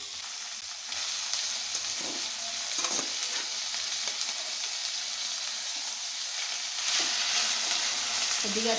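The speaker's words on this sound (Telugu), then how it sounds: "క్యాలీఫ్లవర్ ముక్కలంతా నీరు వడగట్టుకొని ఇలా ఆయిల్లో వేసుకొని షాలో ఫ్రై చేసుకోవాలండి." Cauliflower pieces shallow frying in hot oil in a pan give a steady, close sizzle and hiss throughout, with a few soft stirring knocks and no talking.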